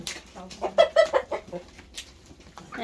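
Domestic hen clucking close by in a farmyard, a series of short rhythmic clucks rising and falling in quick succession, with no talking.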